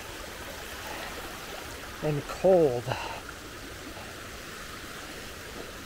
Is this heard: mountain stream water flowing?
yes